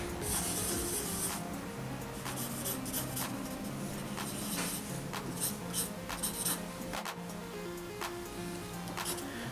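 Pencil drawing a human figure's back on paper, continuous scratchy strokes of graphite rubbing back and forth at close range, steady and fairly quiet with short pauses between strokes and no talking.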